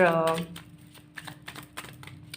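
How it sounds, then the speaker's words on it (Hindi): Tarot cards being drawn and shuffled from a deck produce quick, soft papery flicks and taps in an irregular patter, close by, following a woman's speech at the start. "अब मैं विद द इंटेंशंस आप लोगों के लिए कार्ड्स निकाल रही हूँ"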